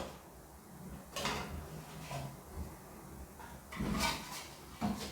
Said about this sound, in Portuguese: Aí você desenforma o pão, olha só.